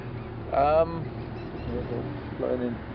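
Harsh, chattering calls of a white-crowned shrike near a nesting site burst out briefly, then a softer call follows, heard at a moderate distance over steady outdoor background noise.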